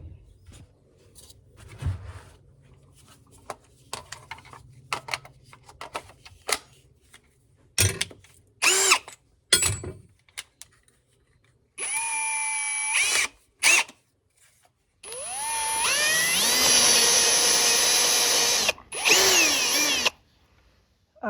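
Power drill with a bit boring into material during farm work, in short bursts and two longer sustained runs with rising whine, interspersed with clunks and handling noises, close and loud.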